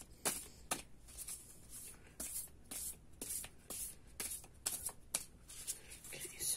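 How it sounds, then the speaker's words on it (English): Repeated crisp riffling bursts of a deck of cards being shuffled, close up, in quick uneven rhythm with faint background noise. "I like these cards, they're really easy to shuffle"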